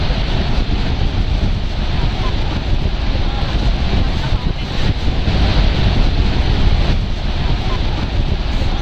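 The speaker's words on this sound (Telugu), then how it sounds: "ఇదిగో ఇదే అమెరికన్ ఫాల్స్." Niagara's American Falls from a ferry, a dense, steady roar of rushing water close by, mixed with gusty wind buffeting the microphone and no clear talk.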